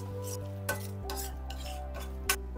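Mushroom masala with turmeric stirred in a pan, a few clinking spoon strokes against metal over a faint sizzle and steady low hum.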